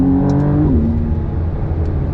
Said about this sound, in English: it revs nice